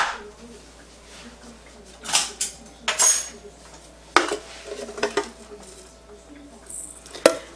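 Spoon or utensil clattering against a bowl while mixing ground meat with salt, pepper and breadcrumbs in a home kitchen, irregular close scraping and knocking in uneven bursts, with a voice speaking quietly at times.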